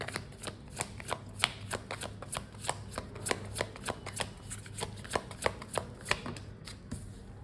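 Tarot cards being shuffled by hand, a steady run of close, crisp riffling flicks repeating about twice a second, quiet and alone with no talk.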